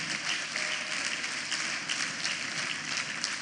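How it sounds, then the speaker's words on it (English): Audience applause in a university hall for an inaugural lecture, a sustained dense patter of many hands clapping at an even, moderate level, heard alone without speech. "A better round of applause."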